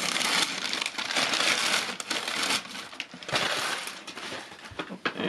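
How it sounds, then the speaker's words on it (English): Packing paper is pulled out of a box and crinkles, loud and close, in a continuous run of crumpling and rustling with no talk. "Alright, get some of this paper out."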